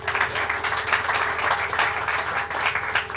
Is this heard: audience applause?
yes